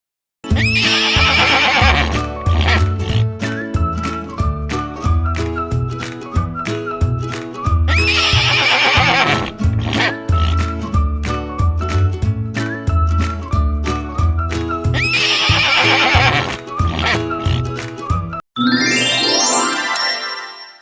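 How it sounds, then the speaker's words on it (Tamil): Repeated loud horse whinnies, each a long descending neigh, recurring over a busy musical backing with steady rhythmic beats. "குதிரை கனைக்கும்."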